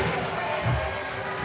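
A loud high school volleyball fan section in a Sioux Falls gym, with Aberdeen supporters, keeps up a constant roar of crowd noise and cheering that fills the hall.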